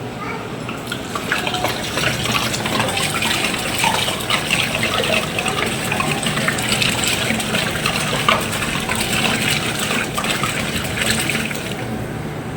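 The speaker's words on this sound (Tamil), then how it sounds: "பன்னெண்டு லிட்டர் நம்ம தண்ணி ஊற்றிக்குவோம்" Twelve litres of mineral water pour steadily into a large cooking pot, a continuous loud gushing splash for a community temple meal, with no talk over it.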